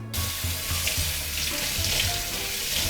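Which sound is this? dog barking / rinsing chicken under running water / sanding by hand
rinsing chicken under running water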